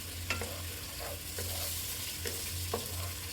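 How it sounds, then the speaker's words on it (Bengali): Tiger prawns, already cut and cleaned, go into a curry cooking in a pan, bringing a steady sizzle and frying hiss with a few light stirring scrapes and clinks close up, with no talking. "আগে থেকে কেটে ধুয়ে পরিষ্কার করে রাখা বাগদা চিংড়িগুলো দিয়ে দিলাম"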